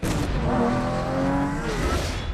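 Lamborghini car driving in a film trailer scene: a loud engine rev rising and falling in pitch with a tire squeal, close and brief, layered with trailer sound.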